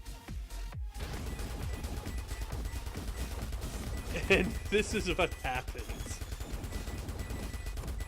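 Weapons fire in the Time Clicker video game, with rocket launcher, particle ball, spread rifle and flat cannon blasting in rapid, overlapping bursts while a person talks over the action.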